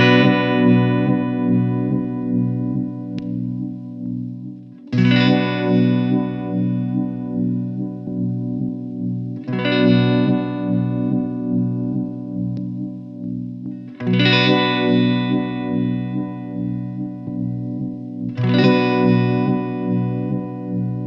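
Sustained electric guitar chords through an AXiom Effects Omega-Vibe OV-1 uni-vibe pedal, struck about every five seconds and left to ring, with a swirling, pulsing throb as the vibe oscillates.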